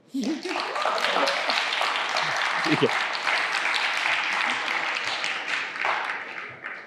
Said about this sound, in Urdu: اس پہ تالی بجا دو.